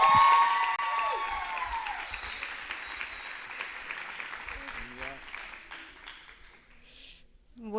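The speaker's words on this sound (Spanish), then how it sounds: "con un fuerte aplauso recibimos a Camila" An audience at a church seminar night bursts into loud applause to welcome a speaker to the stage, strongest at first then thinning out, with scattered voices and cheers underneath.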